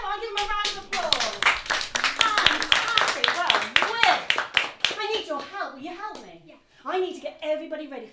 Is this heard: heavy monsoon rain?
no